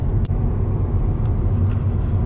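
A car travels the road toward Narvik, Norway, its engine and tyre roar a steady, loud low rumble heard from inside, with a brief knock near the start and no talking.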